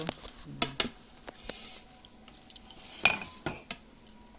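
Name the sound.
cutlery on plates while eating a meal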